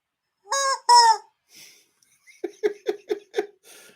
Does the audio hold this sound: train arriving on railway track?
no